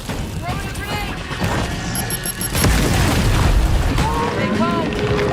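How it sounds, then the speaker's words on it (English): Grenade explosion in a video game: a deep boom rolls out midway, followed by sustained rumbling and battle noise, with voices calling out in the game throughout. "Throwing a grenade!"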